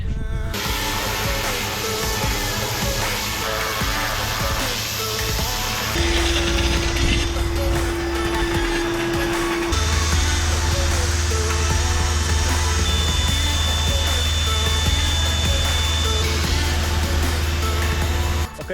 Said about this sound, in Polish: Odkurzacz już gotowy, podpinamy, no i myjemy.